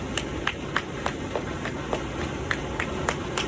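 Single person clapping in a slow, even rhythm, about a dozen claps over a steady background hiss.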